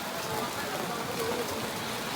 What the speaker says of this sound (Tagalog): Guys, walang tigil yung ulan, no?